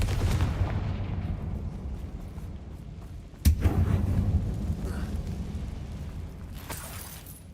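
In the Hogwarts Legacy video game, a Confringo spell blasts with a heavy booming roar that swells and fades. A second sharp explosion then bursts midway and rumbles off, with a faint swish near the end.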